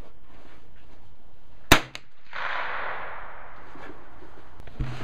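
A single sharp gunshot cracks close to a microphone during a muzzle velocity test, followed by a brief whooshing rush of air and quiet background.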